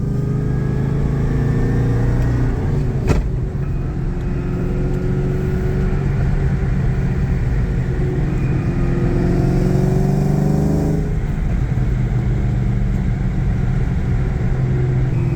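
A 2003 SVT Mustang Cobra with a fully custom exhaust drones steadily while driving. It gives a deep, loud rumble with a brief sharp pop early on and a throttle swell near the end.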